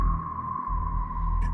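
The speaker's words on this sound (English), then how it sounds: "As the man looks up, a siren is heard," A siren holds a single steady wailing tone for over a second, fairly faint and distant over low rumble, ending abruptly.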